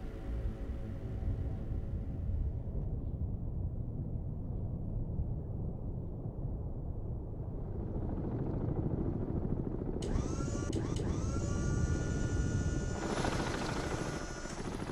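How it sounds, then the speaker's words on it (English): A helicopter in the submarine game Cold Waters gives off a steady, rumbling rotor drone that swells midway, joined by whining electronic tones, with no voices. "Helicopter!"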